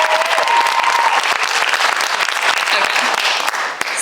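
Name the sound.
audience applause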